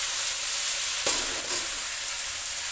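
Jute leaves stir-fry with chopped ginger in a pan, giving a steady close sizzle with a soft stirring scrape near the middle and no voices.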